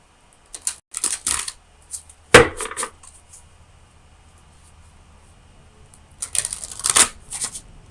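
An Oracle of Visions card deck is shuffled for a tarot reading, with short papery riffles and taps in two bursts separated by a quiet pause.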